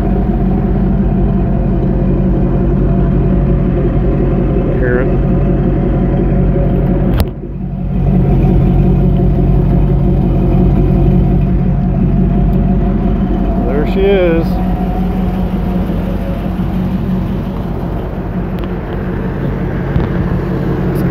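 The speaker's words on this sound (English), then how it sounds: "good little exhaust note not too overbearing" A 1966 Chevy II Nova wagon idles smoothly with a steady, moderate exhaust note that runs continuously at close range while someone talks over it, with a brief knock partway through.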